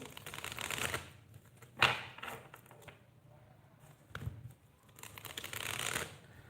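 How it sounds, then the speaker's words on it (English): Cards riffled and shuffled up close in a few quick bursts, with brief pauses and soft handling noises between them; no talking. "Let me give these cards a little shuffle."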